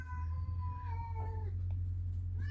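Wingy the cat lets out a single drawn-out, wavering meow over a steady low electrical hum, then falls quiet.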